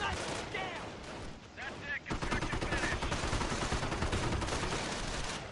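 An M8 armored car firing in a wartime strategy game, with dense rapid bursts of gunfire crackling over other battle noise and a voice talking over the shooting.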